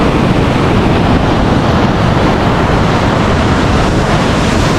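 The Niagara River on the Canadian side, a loud, steady roar of rushing water mixed with buffeting wind on the microphone, continuous and close, with no voices.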